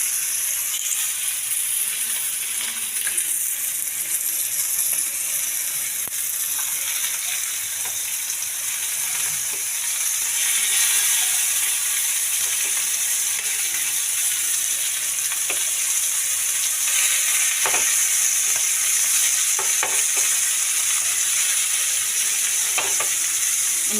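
Fish fries in a pan while being turned, a steady bright sizzle and crackle that stays close and even throughout, with occasional faint scrapes and pops.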